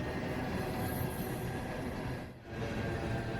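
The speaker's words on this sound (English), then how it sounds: "This train you're seeing here is southbound empty phosphate K823 heading back to Winston, Florida" Southbound empty phosphate freight train K823 rumbles past in Florida, a continuous close roar of railcars with wheel squeal, one brief dip between cars before the steady noise resumes.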